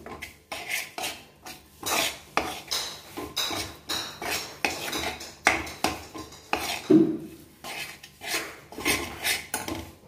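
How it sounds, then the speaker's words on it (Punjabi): Spoon scraping and clinking around a pan while a burfi mixture is stirred, Punjabi-style sweet, in repeated close, moderately loud strokes of steady rhythm with no talking. "ਥੋੜ੍ਹਾ ਥੋੜ੍ਹਾ ਪਾ ਕੇ ਇੱਦਾਂ, ਬਸ ਇੱਦਾਂ ਚਲਾਉਂਦੇ ਰਹਿਣਾ।"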